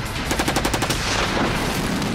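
Rapid automatic gunfire in a German-dubbed action film trailer, a fast burst of machine-gun shots at the start that blurs into a dense, loud barrage of fire.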